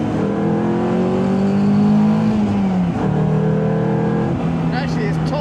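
Caterham 270 sports car engine revving and pulling up through the revs, a loud continuous rising engine note with a brief dip around a gear change before climbing again.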